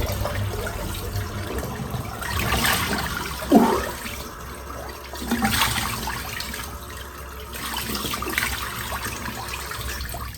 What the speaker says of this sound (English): Nice dousing of cold water.